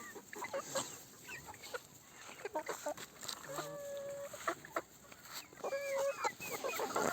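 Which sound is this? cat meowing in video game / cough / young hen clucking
young hen clucking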